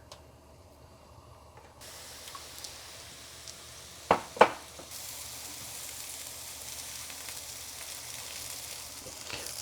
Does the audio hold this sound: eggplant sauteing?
yes